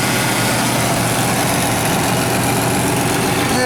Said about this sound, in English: Anyway, so that's the engine.